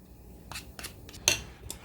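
A spoon scraping sour cream from a container into a bowl makes a handful of short metallic scrapes and clinks. They are close and fairly quiet, with one sharper clink near the middle.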